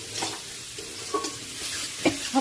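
Potatoes fry in hot oil while being stirred in a pan, a soft continuous sizzle broken by a few scraping strokes of the spoon, close and fairly quiet.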